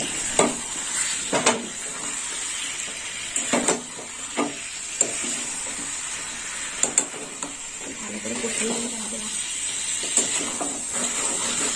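Fried potatoes stirred into a pan of spiced eggplant, cooking down for a fish curry: a steady frying sizzle with scrapes and clinks of a spatula against the pan at irregular intervals, close by and without talk.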